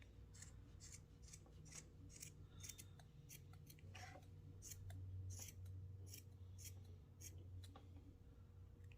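Scissors snip repeatedly through yarn, trimming a pom-pom for a small beanie ornament; a run of close, crisp cuts in an irregular rhythm over a low steady background hum.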